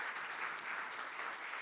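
A church congregation applauding during a sermon, a short, fairly faint burst of steady clapping heard from a distance in a reverberant hall.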